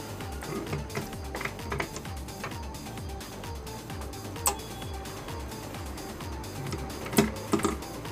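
A sewing machine stitching a pocket onto a Punjabi dress runs with a fast, steady mechanical patter, close by and moderately loud, broken by a few sharper clicks near the end.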